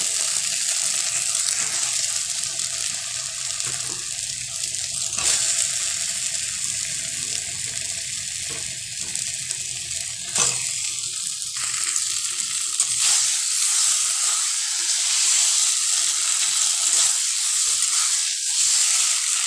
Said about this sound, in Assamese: এইখিনিতে মই ভালকৈ ভাজিম